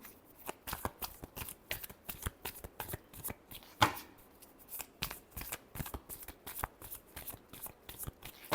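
Tarot cards shuffled by hand in quick rhythmic bursts of crisp riffling slaps, close and distinct, repeating steadily with brief pauses between.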